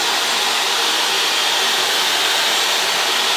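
A hair dryer fitted with a diffuser runs on a low heat setting, giving a loud, steady, close whoosh that holds unchanged throughout, with no speech.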